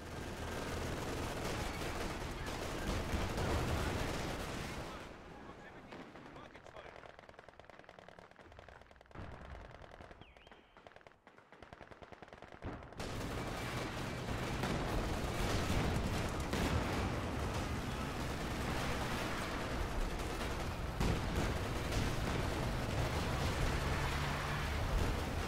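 Artillery batteries firing in the video game Company of Heroes 2, with dense, loud rumbling blasts and gunfire that drop away briefly midway before the heavy barrage resumes.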